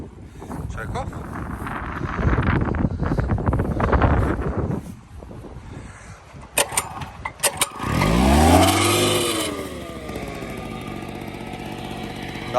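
Two-stroke lawn edger engine, repaired and started indoors in a sitting room, running with a rough buzzing roar, then sputtering and revving in bursts with a sweeping rise in pitch, close and loud with wind-like noise.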